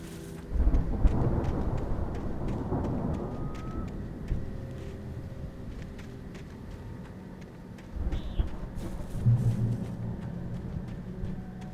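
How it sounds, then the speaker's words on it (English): Thunderstorm in the video game Alan Wake: heavy rolling thunder booms early, then steady rain hiss, and a second rumble swells near the end, all loud and close. "The storm raged on"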